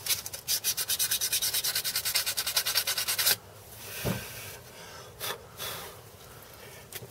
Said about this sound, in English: A little bit of sandpaper here, real fine stuff, just to give that a bit of a rub.